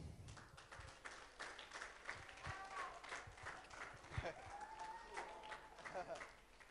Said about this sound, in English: can I ask, please, for a special round of applause for the gentleman who worked tirelessly to make it happen